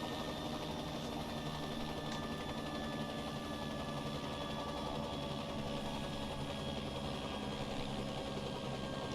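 A Bell JetRanger helicopter engine in X-Plane 12 hums steadily as it spools down, a continuous droning whine with a faint high tone, no talk over it.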